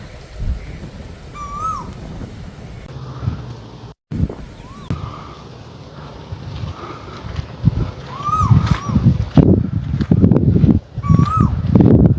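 An Asian koel calls repeatedly from within a tree in a green village in West Godavari, Andhra Pradesh, its clear rising whistles recurring against rustling and outdoor background noise that grows louder toward the end.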